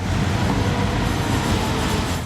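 The Tatvan tourist train sets off, a loud continuous rumble of rail cars and wheels on track with clattering, close by and alone.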